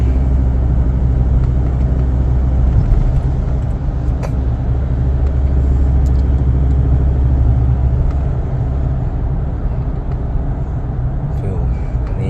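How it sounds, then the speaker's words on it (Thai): A remapped Ford Ranger 3.2 pickup under throttle, heard from inside the cab as a steady, loud low engine and road drone, with people talking over it. "พี่ลองปล่อยเขาเร่งเลย ปล่อยเลยแล้วลองเติมดูครับไม่ต้องแรงมาก"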